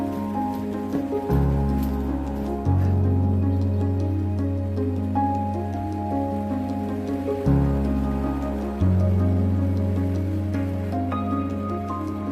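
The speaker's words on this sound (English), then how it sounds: "Well, it is raining" Rain falls outside a French farmhouse, a steady patter of drops on surfaces behind a constant low drone and faint background music.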